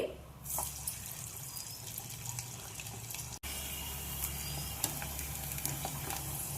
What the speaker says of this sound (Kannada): ಈಗ ಸಂಡಿಗೆ ಹಾಕೋನು ಎಣ್ಣೆ ಚಲೋದಂಗ ಕಡಕ್ ಕಾಶಿ ಫ್ರೈ ಮಾಡ್ಕೋರಿ